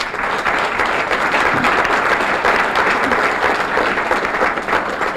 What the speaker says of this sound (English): Can I ask for a round of applause for our town employees?